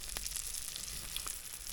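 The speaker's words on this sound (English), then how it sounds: "So you want to hear that fish sizzling when it hits that oil." A striper fish fillet sizzles in hot oil in a pan while camp-style cooking outdoors, a steady bright hiss with small crackles and pops throughout.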